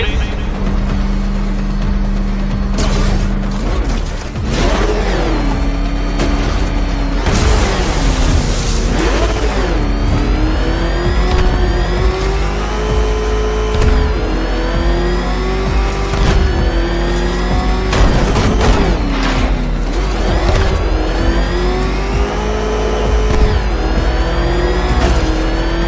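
A Batmobile engine in Batman: Arkham Knight revs loud and close for the whole clip, its pitch rising and falling with each acceleration, with a brief tire squeal in places and a voice speaking over the roar.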